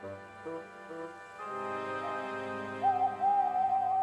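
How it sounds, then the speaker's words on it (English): An owl hoots on a moonlit night beside a lake, a clear rising hoot emerging late over a sustained musical background, moderately loud. "Whenever that owl hoots,"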